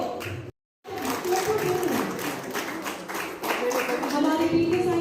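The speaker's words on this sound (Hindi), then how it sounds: "एक बार जोरदार तालियां।" Audience at a public event in Uttarakhand with Ladakhi guests clapping in a steady patter after a call for applause, with a voice talking and music-like tones running over it, broken by a brief dropout.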